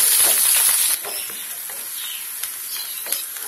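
Sliced onion and a few chillies sizzle in hot oil while cooking a bottle gourd bhaji, a loud hiss at first that settles into a steady, softer frying crackle with occasional pops.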